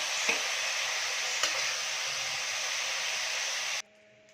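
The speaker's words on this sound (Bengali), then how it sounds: "এবারে আমার ঝিঙেটাও ভাজা ভাজা হয়ে গেছে, এটাকে আমি একটা থালাতে বের করে নিচ্ছি।" Ridge gourd pieces fry with a little salt in an oil-filled wok, giving a steady, close hiss of sizzling with a couple of faint knocks. The sizzle cuts off abruptly near the end, leaving quiet.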